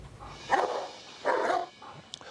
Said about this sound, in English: today we're gonna just do some basic maneuvers with the dogs